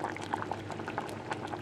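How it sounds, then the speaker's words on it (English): Venison stew with a litre of stock and a handful of sage simmers quietly, soft bubbles popping faintly and unevenly in the pot. "now I'm going to leave that to simmer for a couple of hours"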